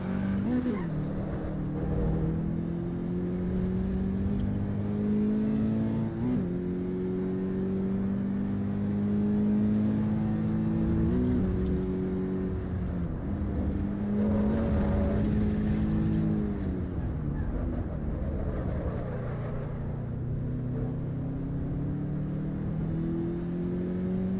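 Race car engine in Assetto Corsa Evo driving a time-trial lap on old tyres: a steady loud engine drone rising and falling through gear changes and revs, continuous throughout.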